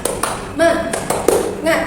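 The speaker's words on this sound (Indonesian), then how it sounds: "sekarang kita akan tepuk semangat dulu" Primary school classroom pupils perform a rhythmic spirit clap led by a teacher, short bursts of group clapping in a patterned beat alternating with children's voices chanting, fairly close and lively.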